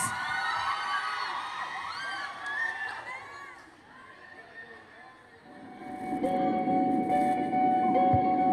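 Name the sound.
audience cheering and applauding for a class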